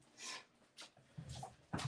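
Several dogs in an indoor room make faint snorts, sniffs and soft whimpers in short separate bursts, quiet and close, with no talking.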